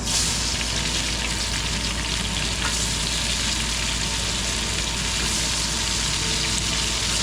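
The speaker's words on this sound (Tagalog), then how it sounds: "ginigisa ko lang itong bawang. Ihalo ko na itong sibuyas." Garlic and onion sauté in a smoking kawali, with a dense, constant sizzle and crackle close up and no voices.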